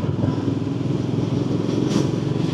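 A BSA Gold Star motorcycle engine runs with a steady, loud, throbbing thump, close by and constant throughout, with no voices over it.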